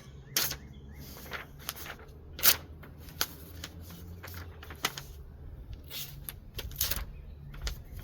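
Serrated Canary cardboard cutter tearing through paper, a run of crisp scraping rips and rustles with sharper bursts scattered throughout, close and fairly quiet, with no talking.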